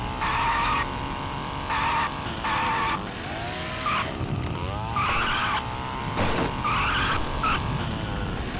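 An RC car in Duke Nukem Forever drives and skids along, with repeated bursts of tire squeal and whining motor rising and falling over a continuous game background, fairly loud and with no talking.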